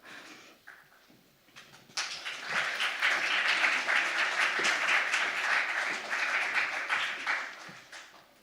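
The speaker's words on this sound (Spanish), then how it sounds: "a sus tibios aplausos" Audience at a panel discussion on a just energy transition applauds, a few scattered claps building suddenly into a full, steady round that continues for several seconds before tapering off.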